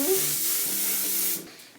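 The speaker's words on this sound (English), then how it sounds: "Setting spray. Gonna stay on all day." A makeup setting spray gives one continuous, close hiss lasting over a second, then cuts off into quiet.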